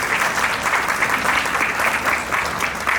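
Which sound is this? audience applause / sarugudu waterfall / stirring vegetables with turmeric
audience applause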